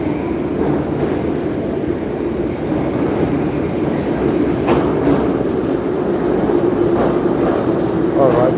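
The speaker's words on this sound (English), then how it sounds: "All right, the train is here." A subway train rumbles steadily into the station, with a continuous loud low roar and clattering rail noise, and a few sharp squeals and clicks toward the end. People talk indistinctly in the background.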